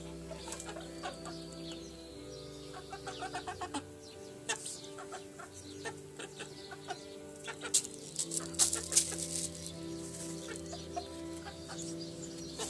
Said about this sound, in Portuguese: Olha o galo.